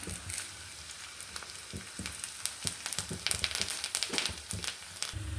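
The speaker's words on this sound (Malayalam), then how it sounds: "അതിലേക്ക് ആവശ്യമായ കടുക് പൊട്ടി വന്നിട്ടുണ്ടെങ്കിൽ നമുക്കതിലേക്ക് ചെറിയുള്ളി ഇടാം." Small shallots and curry leaves frying in hot oil with already popped mustard seeds, a busy close sizzle with dense crackling bursts and spits that build in the middle, no speech.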